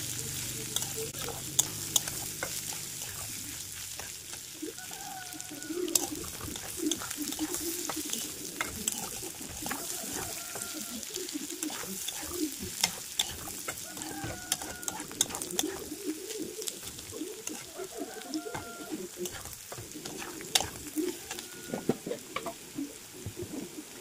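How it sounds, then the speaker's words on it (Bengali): Arhar dal fries and is stirred in a pan, a continuous close sizzle with repeated scraping strokes, while pigeons coo softly in the background. "এখন এই সব কিছুকে একটু ভালোভাবে ভাজা ভাজা করে নেব।"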